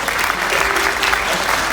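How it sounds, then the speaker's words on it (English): Students and families applaud at a college convocation ceremony in Kuching, a loud, continuous, even burst of many hands clapping throughout with no talk. "Please give them a round of applause, students."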